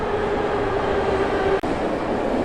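Metro train in a Tashkent subway station: a loud, steady rumble with a sustained whine, a brief dropout near the end, then the rolling noise carries on with no talk.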